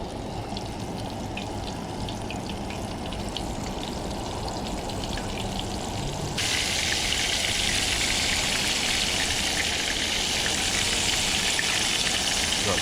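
Catfish pieces crackle and sizzle in hot oil at a rolling boil in a shallow pan, a dense steady fry that grows brighter and louder halfway through, with no talking.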